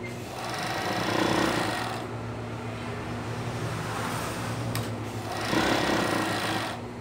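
Sewing machine running steadily as it stitches a small child's sock, a close, continuous mechanical whir that swells and eases over several seconds.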